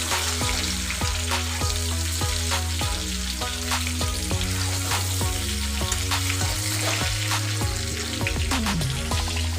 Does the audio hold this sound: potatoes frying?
yes